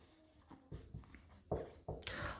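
Quiet strokes of writing on a board during a maths lesson on areas of circles: a handful of short scratching marks in uneven bursts, with the last few strokes sharper and louder.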